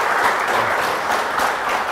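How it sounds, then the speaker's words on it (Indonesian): A studio audience claps loudly and continuously for the full two seconds, a dense, even wash of hand claps with no voices standing out. "tepuk tangan"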